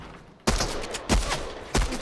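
Submachine gun fire in a video game, three sharp loud bursts spaced about half a second to a second apart, each with a quick decaying tail over a steady background of game ambience.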